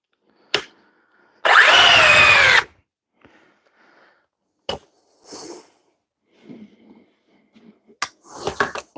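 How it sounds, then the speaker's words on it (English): A power drill whirs loudly for about a second, followed by scattered clicks, clatter and light handling noises in a quiet space. "Ridgid's weakest drill."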